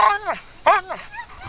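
A Canadian Eskimo sled dog whines and whimpers, eager to start pulling, making several close, pitched-up whines in quick succession with short gaps between them.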